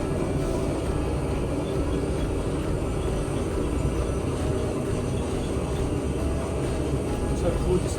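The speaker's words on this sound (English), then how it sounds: "so we rotate, take off now" Loud, steady broadband jet-engine roar from an aircraft taking off down a runway, heard close from the cockpit with cabin rumble, constant for the whole stretch, with a voice talking faintly underneath.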